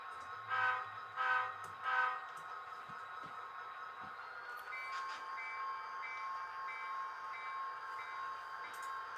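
A model train gives three quick horn toots, then its motor settles into a steady, close electric whine as it backs up.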